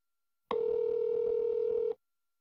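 An iPhone 3G S plays a single steady electronic tone after a voice-dialed call, a clean beep lasting about a second and a half, alone and moderately quiet.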